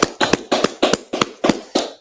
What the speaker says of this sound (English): let's clap it up then